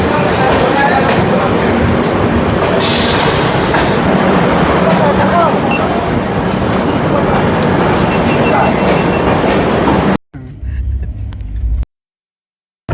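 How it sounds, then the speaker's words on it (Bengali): The Humsafar Express pulls into Krishnanagar City Junction with a loud, continuous rumbling roar heard from inside, with people talking, before the sound abruptly drops away near the end. "আমাদের ট্রেন এখন ঢুকছে কৃষ্ণনগর সিটি জংশন"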